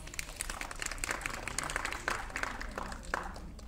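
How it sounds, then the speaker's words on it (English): Applause from a cinema audience welcoming an IMAX executive, a fairly faint, scattered patter of clapping from a modest crowd, mixed with some rustling. "So let's all give him a round of applause."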